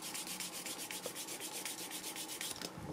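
Rhythmic back-and-forth strokes sanding a leather edge, quick and evenly spaced, rasping close up, then a brief scrape as the motion stops near the end.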